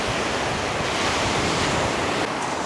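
Sea waves washing onto the shore at night, a steady broadband roar of surf with some wind noise, loud and continuous throughout with no voices.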